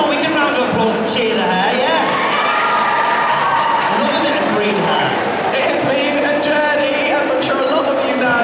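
A dense crowd cheers, whoops and claps nonstop at a busy festival stage event, a loud, steady wash of voices and applause with children's shouts mixed in.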